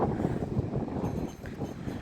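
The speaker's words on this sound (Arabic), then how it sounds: "انتوا اكيد سامعين صوت الهوا. الهوا فظيع فظيع فظيع فظيع." Strong wind at a beach in Marsa Matrouh, Egypt, buffets the microphone in a steady, blustery roar with low rumbling gusts throughout, and no voices are heard.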